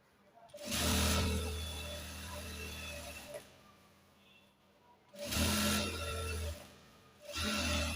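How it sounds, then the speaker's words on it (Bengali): A sewing machine stitches the side seam of a boy's pajamas in three loud runs of rapid whirring, separated by quieter pauses with faint handling noises. "এভাবে ধরে প্রথমে সাইডে একটা সেলাই দিবেন"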